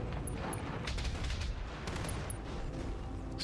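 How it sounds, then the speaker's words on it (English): A structure explosion in the BattleTech video game, heard as a dense, continuous roar of blasts and rumbling debris that stays loud and full throughout, with no voices over it. "Structure explosion."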